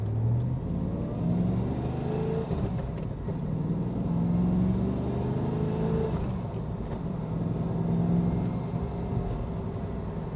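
A 1997 Pontiac Firebird Firehawk with an LT4 engine pulls away in first gear, its engine rumbling steadily from inside the cabin as rising revving tones climb and fall under a constant road drone.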